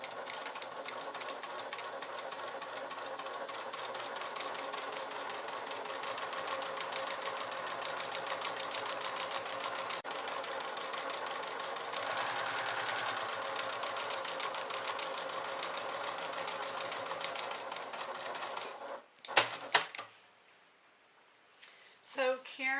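A sewing machine runs steadily, stitching a fabric clutch with Tex 45 thread for about nineteen seconds, then stops, followed by a few short bursts and quiet handling.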